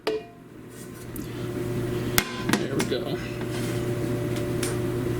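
A steady mechanical hum of a clothes dryer runs throughout, with a voice speaking briefly and a few clanks of kitchenware on top.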